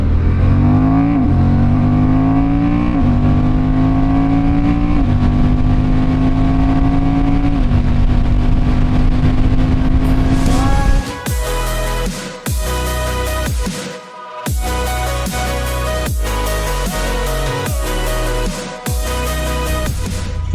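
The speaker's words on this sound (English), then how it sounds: "I'm testing the Honda CB750 Hornet." A Honda CB750 Hornet two-cylinder motorcycle rides with a loud, steady engine drone that climbs through the revs, then shifts into choppy, repeated bursts of acceleration and deceleration, running alone without talk.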